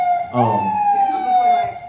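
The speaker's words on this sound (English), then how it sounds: "The sirens be going down out here." A wailing New York City emergency siren with a steady rising-and-falling tone, fairly loud and continuous, with a voice briefly talking over it.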